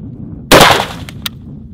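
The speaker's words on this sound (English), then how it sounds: "I want to test if it cycles 3 rounds reliably, rapid fire." M&P10 rifle fired at a range in a reliability test, a single loud sharp report followed by two faint short clicks or pops, close and dominant against an otherwise quiet background.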